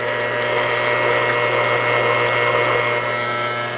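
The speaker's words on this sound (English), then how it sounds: "This Green Star is just mashing these grapes like nobody's business" A Green Star juicer mashing grapes, giving a loud, continuous mechanical whirring drone with wet churning and a low steady hum throughout. No voices.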